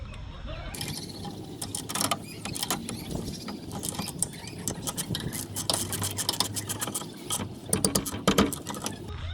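A ratchet wrench tightening brake parts on a 2004 Lexus ES330, with rapid clicking bursts that repeat throughout, close and fairly loud, with occasional soft mechanical clunks in between.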